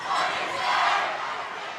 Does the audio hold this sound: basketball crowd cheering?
yes